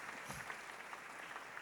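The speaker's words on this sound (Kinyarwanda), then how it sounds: "Abandi bo mu itorero duhe Yesu amashyi menshi" A church congregation at a sermon service applauds with steady, dense clapping that sounds faint and somewhat distant, with no voices standing out.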